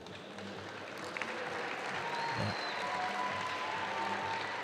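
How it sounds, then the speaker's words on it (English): Spectators clap excitedly in an arena during trampoline finals, a dense, steady patter of many hands that swells slightly and carries on throughout, with a brief spoken word over it. "Crowd is excitedly clapping again."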